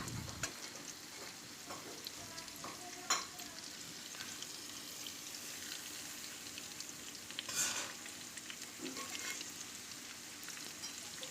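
Capsicum and beans being stir-fried in a pan for chowmein, with a steady sizzle and a few scraping stirs of a spatula, moderately close and with no talking.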